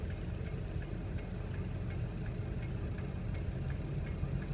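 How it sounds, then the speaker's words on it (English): A 2000 Ford F250 7.3 diesel 4x4 idling nearby, a steady low rumble with a faint regular ticking running through it, unbroken and with no one talking. "so you can see it idling over there. It idles perfect, just as it should."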